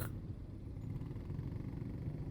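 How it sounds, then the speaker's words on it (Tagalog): Road traffic with cars and motorcycles idling on a congested stretch near S&R: a steady, close, low engine rumble that holds evenly throughout, with no talking. "Ito na naman tayo, ang traffic."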